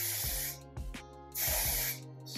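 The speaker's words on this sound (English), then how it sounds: "Start spraying the face." Two loud, close hissing bursts of spray are directed onto a clear lace wig unit, each lasting about a second, separated by a short pause with faint handling noises.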